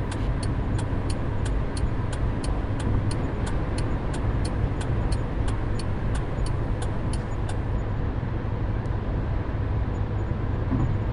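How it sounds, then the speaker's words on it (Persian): Interior of a car accelerating and changing lanes on a highway, with a steady broadband engine and road roar throughout and a rapid ticking turn signal for much of the clip, no talking. "گاز میدم و لاینم رو عوض میکنم"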